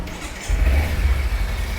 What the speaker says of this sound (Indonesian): langsung saja akan ku cek soundin untuk suara mesin motor ini ya